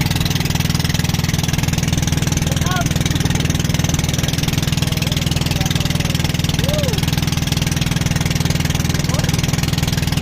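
A steady boat motor drones continuously throughout, loud and close, with faint voices occasionally audible over it.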